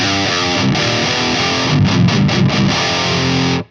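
An electric guitar plays thick, heavily distorted metal chords through a Fryette Deliverance amp, with palm-muted chugs in the middle, loud and close, ending abruptly with no talking.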